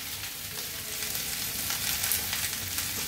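Turmeric, salt and coriander powder frying in a pan with green chilies, giving a continuous, even, fairly quiet sizzle throughout with no talking.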